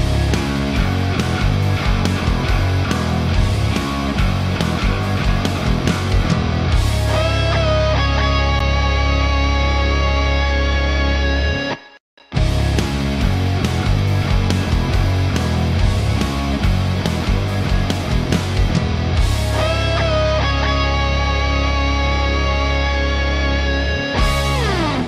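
Bass guitar played through the compressor in Line 6 Helix Native software, loud and sustained, with busy repeated notes that stop briefly about halfway before resuming.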